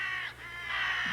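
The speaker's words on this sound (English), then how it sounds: "Usually, they gather around them and let out ear-piercing caws." Crows gather around a dead crow and caw, with two loud harsh calls separated by a short pause.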